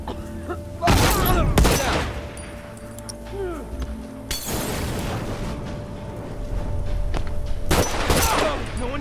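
Explosion and gunfire in The Last of Us Remastered multiplayer: three loud, sharp blasts spaced a few seconds apart, each followed by crackling shots, over a steady background rumble.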